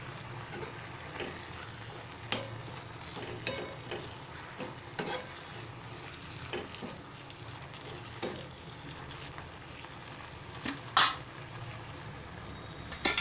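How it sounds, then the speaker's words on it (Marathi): Drumstick (moringa) vegetable sizzles in a kadhai under a steady frying hiss, punctuated by regular scrapes and taps of a spatula stirring. "आता मी मीठ घालत आहे आणि व्यवस्थित आपण परतून घेऊया"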